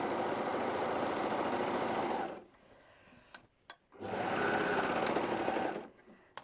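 Sewing machine stitching elastic onto Christmas pajamas, a steady buzzing run of about two seconds, a pause with soft handling clicks, then a second run of similar length before stopping, close with no talking.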